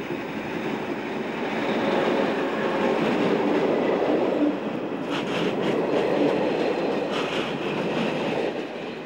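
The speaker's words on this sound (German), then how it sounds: "Die 234-442 erreicht mit einem Güterzug aus Puttgarden die Betriebsstelle Hamburg Hauptgüterbahnhof" Locomotive 234-442 hauls a freight train from Puttgarden into Hamburg's main freight yard, a loud, continuous rumble of rolling wagons with faint rhythmic wheel clatter and light squeal, no voices.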